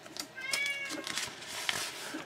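A cat meows repeatedly nearby in a room, its cries rising and falling over about two seconds, fairly clear above a faint background.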